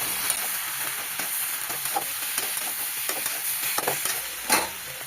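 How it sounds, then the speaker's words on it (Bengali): Chopped tomato sautéing in a pan with turmeric and chili powder for a katla fish curry, a bright continuous sizzle with repeated soft scraping stir strokes throughout, no voices. "এখানে কেটে রাখা টমেটো দিয়ে দিচ্ছি, দিয়ে ভালোভাবে কষিয়ে নেব।"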